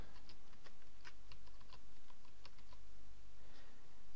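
A password is typed on a computer keyboard in quick, irregular clicking keystrokes, fairly quiet and close, with no talk.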